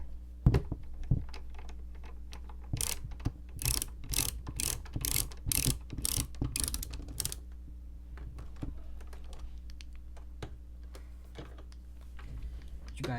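A ratchet screwdriver clicks in quick bursts of sharp, close ticks, several runs in a row, then quieter handling noises.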